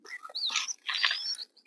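Small birds chirp in the Konkan village countryside: a few quick, clear tweets and whistles in two short bursts, near and moderately loud against otherwise quiet surroundings.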